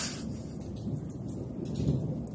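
Deep rolling thunder rumbles continuously through a moderate thunderstorm with hail, with steady rain hiss in the background and no voices.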